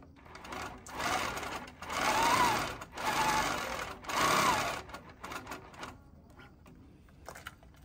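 A longarm quilting sewing machine stitches in three long, loud humming bursts with short pauses between them, then fades into quieter clicks and handling noises.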